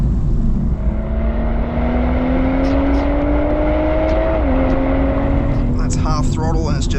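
A 2025 BMW M240i accelerates hard on a test drive. Its engine note climbs steadily, dips briefly at a gear change, then pulls again, loud and close under constant road and wind roar.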